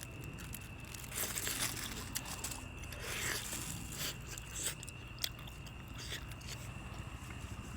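Someone bites into and chews food over a meal of lugaw, with soft crunchy, crinkly bites and steady mouth noises close up; a voice murmurs faintly in the background.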